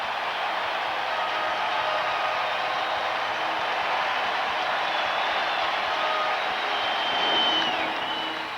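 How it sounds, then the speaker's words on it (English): A baseball stadium crowd on its feet cheering with two strikes in the 1991 ALCS Game 5, Twins at Blue Jays, heard as a dense sustained roar with a brief swell near the end. "Crowd on its feet"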